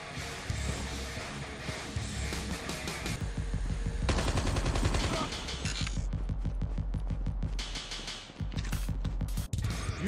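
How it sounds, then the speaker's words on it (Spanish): Rapid gunfire in Call of Duty Mobile battle royale, loud bursts of automatic shots in quick repeated strings with brief pauses between, over a low mechanical hum. "Están disparando."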